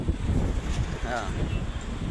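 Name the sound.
wind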